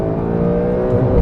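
A 2020 Porsche 992 Carrera 4 engine pulls hard in second gear, a loud, close, steady rising drone with strong low harmonics and no talking.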